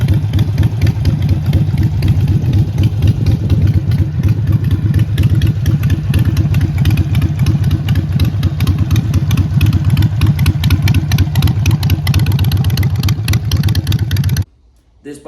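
A 2000 Harley-Davidson Dyna Low Rider with a twin cam engine idles with a steady, loud, lumpy low rumble that runs continuously for about fourteen seconds before cutting off abruptly near the end.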